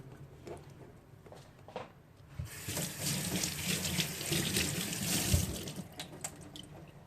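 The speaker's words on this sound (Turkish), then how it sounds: "Temizledikten sonra güzelce bir yıkıyoruz bunları." Fresh ginger roots and peeled garlic cloves are rinsed under a running kitchen tap, the steady rush of water starting after a couple of seconds of quieter handling and continuing close and fairly loud to the end.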